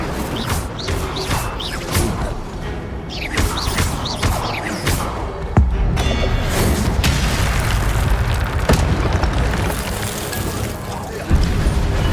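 Incendio fire spell cast in Hogwarts Legacy as a Slytherin student, giving a burst of booming, crackling magical blasts with sharp impacts and swooshes over a dense, continuous game soundscape.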